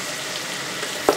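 Onions frying in a pot for jollof rice, a close, steady sizzle with a brief clink near the end.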